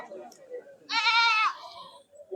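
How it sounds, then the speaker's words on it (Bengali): A local goat at a village goat market in Kashiganj, Bangladesh gives a single loud, quavering bleat lasting about half a second, with faint talking and market murmur around it. "প্রচুর দেশি ছাগল উঠেছে এই বাজারে"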